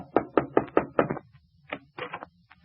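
Knocking on a theatre door for a radio comedy: a run of five sharp, evenly spaced knocks, then a short gap and a couple of quieter thuds or movements, close and clear with no talk.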